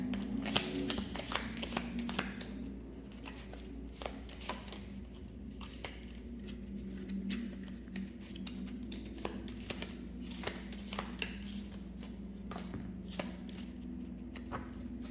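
Tarot cards are shuffled by hand in a steady run of soft, rapid riffles and light taps, close and quiet, with no talking over them.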